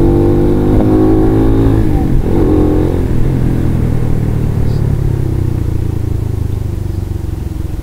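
A motorcycle engine with a racing CDI runs loud and close, swelling in a brief rev and then settling back into a steady, throbbing idle.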